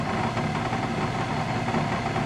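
The new motor on a vintage Sioux valve grinder runs steadily nearby, a constant dense mechanical hum and rattle with no breaks and no talking.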